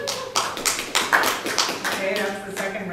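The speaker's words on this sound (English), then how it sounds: "that's the second round of applause today" A small audience at a downtown Vancouver business association meeting gives a short round of scattered, distinct claps that stay close and fairly loud for about three seconds, with voices underneath.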